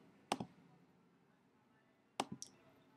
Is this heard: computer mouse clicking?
yes